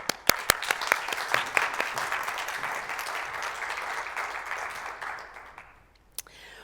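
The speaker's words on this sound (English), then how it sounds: "So now we can applaud." Church congregation applauds new at-large board members at a Sunday celebration service, beginning with a few sharp individual claps, swelling into steady group clapping, then fading out with a last stray clap.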